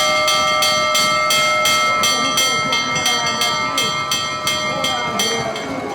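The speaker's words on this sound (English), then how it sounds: "Now that's a bell." A finish-line lap bell clangs with steady, repeated strokes during a road cycling stage race in Hungary, loud and ringing over continuous crowd and commentary noise.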